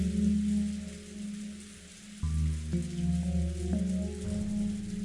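Rain effect from the visual novel game Umineko When They Cry: a steady, soft hiss of falling rain that continues throughout, under sustained musical tones that shift partway through.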